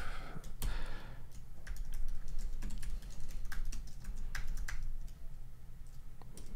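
Steady typing on a computer keyboard while writing into a blank document, with rapid irregular key clicks running continuously at close range over a low background hum, and no voices.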